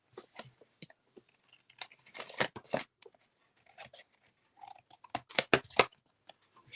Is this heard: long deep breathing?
no